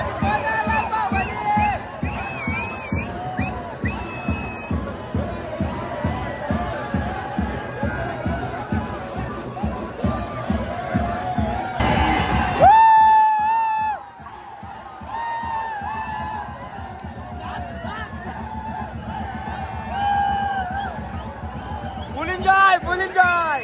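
A dense crowd at a goddess's palkhi procession of the Agri Koli community on Chaitra Saptami roars and cheers over steady, pounding rhythmic drumming. A loud surge hits midway, then the crowd hubbub and beat carry on.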